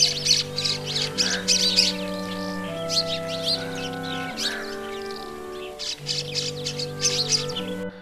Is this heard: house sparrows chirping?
yes